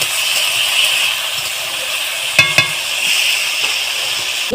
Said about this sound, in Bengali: এবারে আমি একটু আলুটাকে লাল লাল করে ভেজে নেব